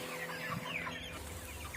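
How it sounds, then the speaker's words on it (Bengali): A black Kuroiler hen on a poultry farm, recovering from an injury and walking poorly, clucks in a few soft, close, repeated notes. "এই যে কালো মুরগিটা আপনারা দেখতে পাচ্ছেন"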